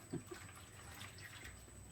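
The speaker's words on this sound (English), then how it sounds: "Just a little more water." Faint, steady stream of water pouring into a pan, a soft continuous splashing hiss with no talking.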